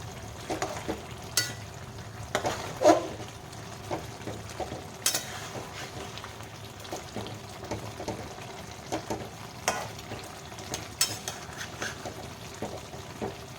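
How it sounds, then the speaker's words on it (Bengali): Rohu fish pieces are stirred and turned in a frying pan, giving a soft, steady sizzle with scattered scrapes and knocks of the turner against the pan. "এবার মাছগুলো একটু নেড়ে উল্টিয়ে দেব"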